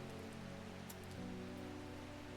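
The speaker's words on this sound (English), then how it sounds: "I like the rain." Steady rain falls in the Strange Horticulture video game, a continuous soft patter on surfaces running throughout beneath faint ambient game tones.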